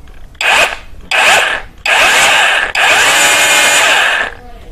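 OSUKA OSRH-26 cordless brushless SDS rotary hammer drill running in plain rotation mode, four loud bursts of whirring motor spin, each starting and stopping sharply with short pauses between, the last run longest.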